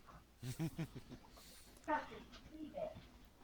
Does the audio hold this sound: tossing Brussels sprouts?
no